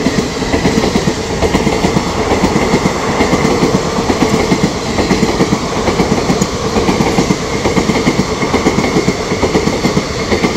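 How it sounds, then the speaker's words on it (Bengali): The Sealdah–Balurghat Express, a Republic Day special passenger train in India, runs past close by: a loud, steady rumble with continuous rhythmic clickety-clack of wheels over rail joints throughout, no voices. "Sealdah Balurghat express 26 January special."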